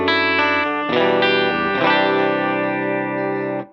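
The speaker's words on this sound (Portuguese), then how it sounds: "Se eu começar a aumentar ele, eu vou introduzir nessa simulação uma característica de amplificador Fender Tweed" Electric guitar through a Strymon Iridium pedal set to a Fender Tweed amp simulation, playing a few sustained, slightly overdriven chords with a compressed, mid-forward tone that rings out and stops abruptly.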